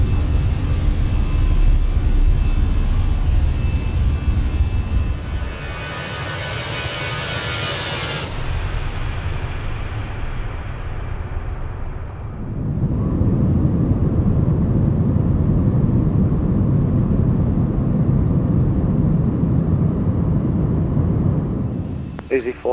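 An airliner in a flight simulator spools up for takeoff, with a steady loud engine roar that swells into a rising whine, then settles into a deep broad rumble on the climb; a voice speaks over it.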